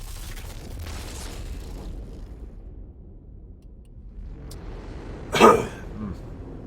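A single sharp cough bursts out close to the microphone near the end, following a stretch of low background noise and quiet game sound.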